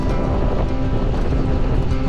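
Strong wind roars and buffets the microphone continuously, a dense rushing noise with a low engine-like drone beneath it.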